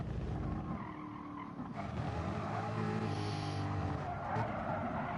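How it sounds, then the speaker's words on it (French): A car skids in the racing game Gran Turismo Sport, with a sustained tire squeal over steady engine roar lasting several seconds. "on a un dérapage en arrière de Rick Frogman"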